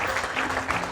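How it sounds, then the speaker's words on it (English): A gala crowd at a Sikh American Chamber of Commerce event applauds invited guests with a dense, steady wash of many hands clapping, heard only briefly. "I want you to give a round of applause to all the invited guests"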